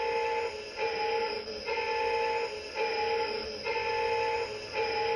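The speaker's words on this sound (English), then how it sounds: "There goes the containment grid warning." Warning sound of the containment grid on a Hasbro 1984 Proton Pack toy, a loud electronic tonal alarm pulsing in a steady repeating loop of about four cycles, with brief dips between pulses.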